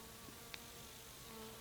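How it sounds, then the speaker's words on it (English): Bees buzzing around flowering Flamingo Swiss chard in a spring garden, a faint, close hum that drifts in and out, with one brief tick partway through. "the bees really seem to like that right now"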